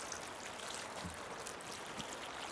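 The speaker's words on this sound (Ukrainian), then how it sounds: "Скільки води ляю, не знаю, ляю на око, щоб нормально було." Water is poured by hand into a dry seedling cup while planting tomato seedlings, making a soft, steady trickle and splash heard alone for a couple of seconds.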